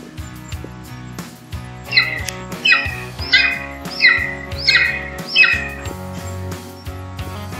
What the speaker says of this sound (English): This is the home of the golden eagle, whose vocalizations are playing right now.